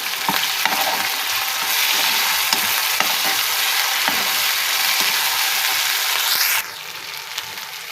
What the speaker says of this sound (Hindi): प्याज हमारा हो चुका है ब्राउन और अब डालेंगे अदरक लहसुन का पेस्ट।